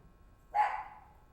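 A puppy lets out a single short, high bark, fairly faint and alone after a quiet moment.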